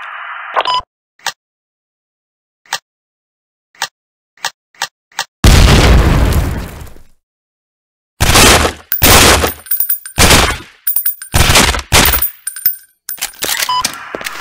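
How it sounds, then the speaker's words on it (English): Breaching charge detonation in the tactical shooter game Sierra 7, heard as several sharp clicks followed by one loud booming blast that decays, then a run of heavy bursts and impacts, all loud and close. "detonate your breaching charge, hold down the primary fire button"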